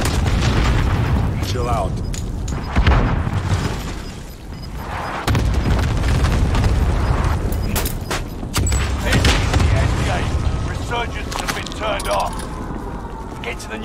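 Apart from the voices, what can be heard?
cluster strike explosions in the video game Call of Duty Warzone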